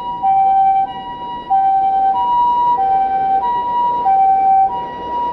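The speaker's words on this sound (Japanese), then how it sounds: "病院前だから救急車がね、こう通るよね。" A loud ambulance siren passing a hospital in Shinjuku, Tokyo, at night alternates between two tones in a steady hi-lo pattern, close by and continuous, with faint road noise beneath.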